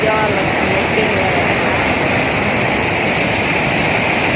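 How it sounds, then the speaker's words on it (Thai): Seasonal waterfall at Nikhom Kham Soi, Thailand, spilling over a rocky ledge into a stream: a steady, loud, broadband roar of rushing water that continues unbroken throughout, with no other sounds rising above it. "แค่ได้ยินเสียงน้ำไหลก็มีความสุข"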